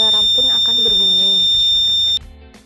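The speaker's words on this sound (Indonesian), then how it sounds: "Kemudian lakukan uji coba dengan membuat gempa buatan dengan menggoyangkan papan dan alarm pun akan berbunyi." A simple homemade earthquake detector's buzzer alarm, set off by shaking its board, holds a high, steady electronic tone under a talking voice, then cuts off abruptly near the end.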